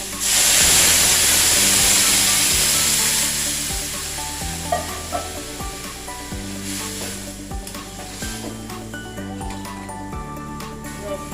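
Water is poured into vegetables frying in a pan for Bengali shukto, setting off a loud burst of hissing sizzle that gradually settles to a softer frying crackle while background music plays.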